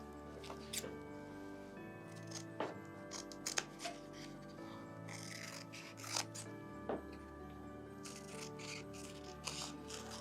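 Scissors snip fabric for a handmade Christmas village church decoration, giving soft, close cuts at irregular intervals over a quiet, steady room hum.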